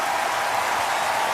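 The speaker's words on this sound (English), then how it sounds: "Give her an enormous applause." Dense, steady audience applause at a concert welcoming a singer, a continuous wash of many hands clapping with no pauses.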